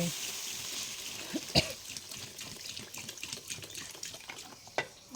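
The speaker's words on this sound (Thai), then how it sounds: "ทีนี้เราก็เติมน้ำลงไป" Water is poured into a cooking pot with a soft, quiet, splashing trickle, broken by a few sharp knocks.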